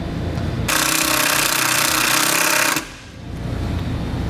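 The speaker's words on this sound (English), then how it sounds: "we'll use another self-tapping screw and run this one into the frame as well" A power driver runs a self-tapping screw into a vehicle frame during tail light wiring installation, a loud buzzing whir lasting about two seconds that stops abruptly, followed by quieter background noise.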